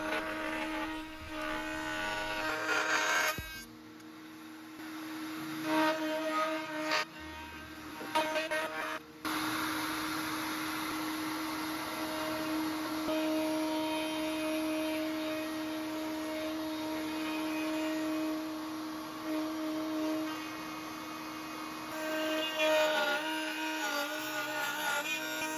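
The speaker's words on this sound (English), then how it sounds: "I'll route a 1/2 inch wide groove in all my leg and rail components" A router cuts a 1/2 inch wide, 3/8 inch deep groove in cherry and maple leg and rail parts for a desk, a steady loud whine that runs nearly continuously with brief dips near the start.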